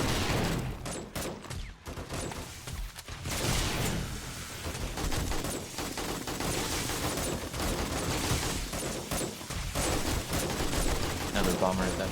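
Rapid gunfire crackles throughout a 7 Days to Die fortress defence against attacking hordes, bursts of shots and fusillades going off in quick succession at varying distances, mixed with occasional booms while players talk over the action.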